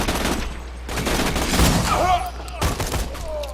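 Sniper rifle fire in the video game Borderlands 2, loud dense gunfire bursts with ringing tails and electronic game effects layered over continuous battle noise.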